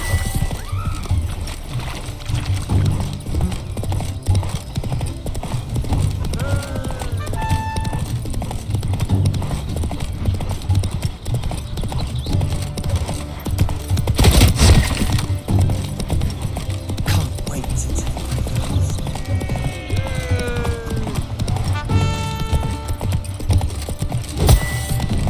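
Horse hooves clip-clopping at a steady trotting rhythm in The Witcher 3, with occasional neighs, creaking tack and a splash of water around the middle, the horse close and clear without speech.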